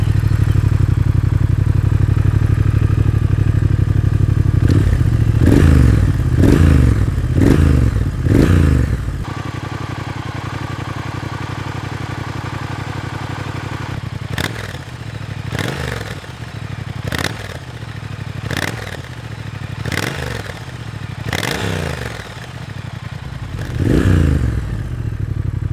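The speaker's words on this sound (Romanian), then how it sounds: "Cu evacuare Euro 4, Triumph-ul Speed Twin sună extraordinar de bine." A 2019 Triumph Speed Twin with a Euro 4 exhaust idles with a deep, loud rumble, then is revved in a series of sharp throttle blips that rise and fall again and again, with no talking.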